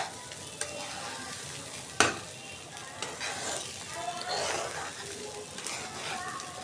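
Ingredients for khichuri sizzle in a pan with a soft, steady hiss, stirring scrapes and a sharp clank of a utensil against the pan, with faint voices under the sound.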